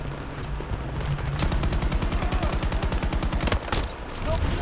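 Rapid automatic gunfire from the video game Battlefield 2042 rattles in a fast, even stream of sharp shots lasting several seconds, close and loud, with a brief gap near the end before a few more bursts.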